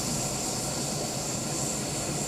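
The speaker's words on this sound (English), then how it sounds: "Taiwanese Air Force conducted an emergency fighter jet scramble drill Friday at Air Force Base" Taiwanese Air Force fighter jets at an air base preparing to take off during an emergency scramble drill, a steady, loud, broadband engine roar that holds constant throughout with no talk.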